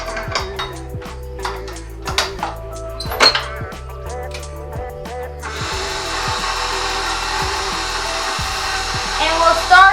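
A stand mixer fitted with a dough hook starts up on low with bagel dough, giving a steady motor whir with rhythmic knocking of the hook in the bowl, rising in intensity partway through.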